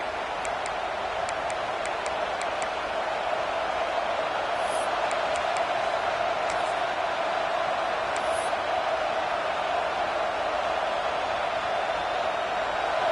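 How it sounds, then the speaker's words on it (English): A large football stadium crowd at an Ohio State game makes a broad, steady roar that holds at an even level throughout, heard from a distance with a few faint clicks and whistles on top. "This crowd ready to make its presence known."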